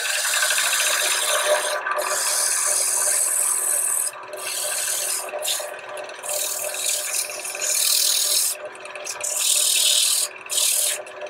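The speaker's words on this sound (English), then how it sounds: "A little sanding here to clean this edge up." Rough, raspy scraping of sandpaper against a wood edge in back-and-forth strokes, close and loud, with brief pauses between passes.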